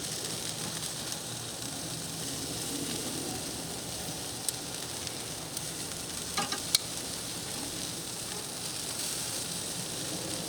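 Chicken wings sizzle steadily on a Kamado grill, a constant close frying hiss with a few brief pops and crackles, no voices.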